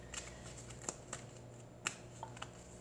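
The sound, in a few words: shuffling mini Oracle deck cards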